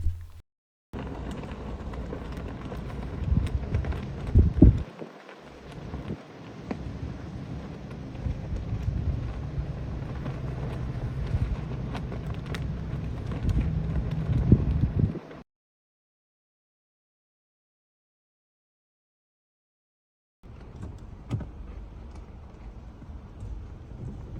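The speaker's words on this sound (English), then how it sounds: "every time I went to take a picture, you could hear it popping in the wind" Flag whipping and popping in strong wind on a Route 66 stop in Tulsa, a loud continuous gusty roar with sharp snaps for about fifteen seconds, then a brief silence before the wind noise resumes.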